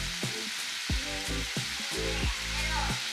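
Vegetables sizzle in a pan with sugar, mirin, soy sauce and sake as the liquid cooks down, a steady close hiss broken by repeated low thumps and scrapes of stirring.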